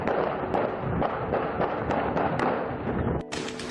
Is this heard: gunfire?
yes